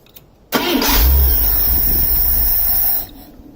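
A car engine fitted with a Holley 2210/2300 carburetor cranks and fires, then runs in a loud, steady idle for about two and a half seconds before cutting off abruptly into quiet.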